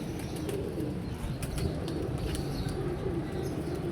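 Pigeons flutter and flap their wings while trying to land, with several quick bursts of wingbeats over a low, continuous background rumble.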